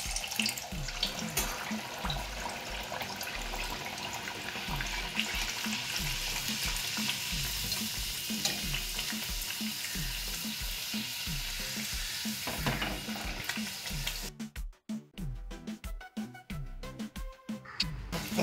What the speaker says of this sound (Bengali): এই যে এটাকে এবার আমি ছাঁকা তেলে ভেজে নেব।